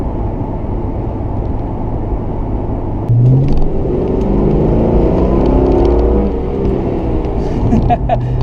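A 1994 Ford Mustang GT cruising on the road, its low engine rumble steady and close, swelling slightly as it picks up speed partway through, with a voice talking over it.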